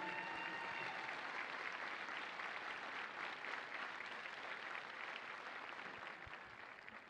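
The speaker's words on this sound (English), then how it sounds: "please join me in a round of applause" Sustained applause from a large crowd at a Marine Corps graduation at Parris Island, steady and even throughout, slowly fading slightly toward the end.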